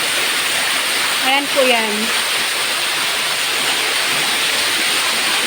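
Water flows steadily and loudly beside an outdoor condo swimming pool, a constant rushing wash throughout, with a brief voice speaking over it near the start.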